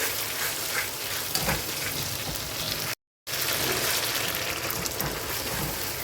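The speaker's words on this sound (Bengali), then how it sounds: "ভালো করে মশলার কৌটোটা ধুয়ে মানে জারটা ধুয়ে আমি জলও দিয়ে দেবো এর মধ্যে" Water tipped from a rinsed spice jar into a hot pan during a Bengali egg curry, setting off a loud, steady hiss and sizzle that runs without talk, broken only by a brief silent gap midway.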